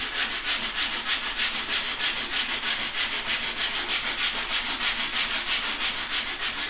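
Rapid back-and-forth strokes of sandpaper rub a wooden zero clearance table saw throat plate, a steady, even rasping rhythm up close with no talking.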